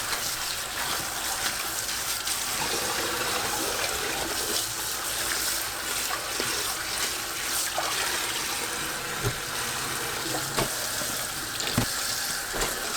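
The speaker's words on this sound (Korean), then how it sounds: "10시간 절인 배추는 꺼내서 물에 3-4번 헹궈주세요." Salted napa cabbage, soaked for ten hours, is rinsed in water for kimchi, producing a steady splashing and trickling wash with scattered louder sloshes and clinks. No one talks.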